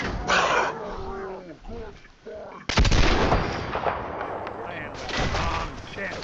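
Sustained minigun fire in Fallout 4 rattles in a loud, dense stream after a sudden heavy blast, with combat noise and occasional voices around it.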